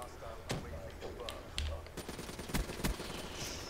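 Black Ops 3 video game gunfire: a few separated shots and short bursts crack over a busy game soundscape, moderately loud, with some low thumps mixed in.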